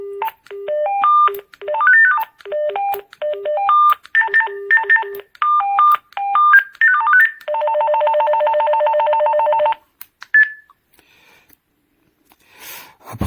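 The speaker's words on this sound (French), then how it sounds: "Il y a plusieurs sonneries différentes." An AWANFI walkie-talkie plays one ringtone after another: loud, crisp electronic beep melodies in quick runs, then a steady warbling ring tone, a lone beep, and near silence after.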